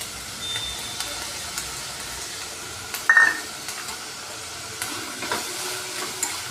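Potatoes for a potato poori curry fry in a pan, giving a faint steady sizzle with soft stirring scrapes and a brief louder clatter partway through.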